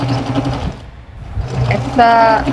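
A sewing machine stitches along the seam of fabric scraps for a patchwork bathroom set, its motor whirring in a short, steady burst near the end over a muffled, noisy room background.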